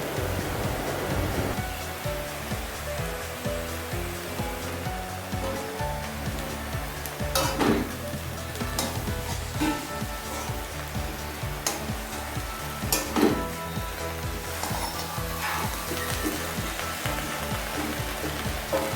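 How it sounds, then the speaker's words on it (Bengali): Bottle gourd greens with salt and turmeric are stirred in a hot pan, giving a continuous sizzling hiss. Spatula scrapes and clatters rise above it now and then. "এবার শাগে লবণ দিয়ে দিন তারপর তাতে হলুদ দিয়ে দিন এবার আস্তে আস্তে নাড়তে থাকুন"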